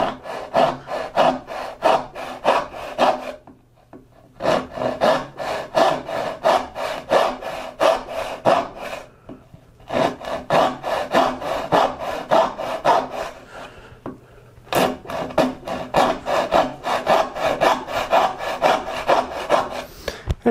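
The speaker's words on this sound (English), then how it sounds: "You can make a whole bunch of cuts in a pretty short order, and a good sharp dovetail saw is just a good thing to have on hand." A freshly sharpened dovetail rip saw cuts through wood in quick, rhythmic push-pull strokes, close and crisp, in three bursts separated by short pauses.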